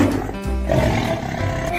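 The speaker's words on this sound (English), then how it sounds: "tiger." A tiger roars in one long, loud, rough growl lasting nearly two seconds, with no talking over it.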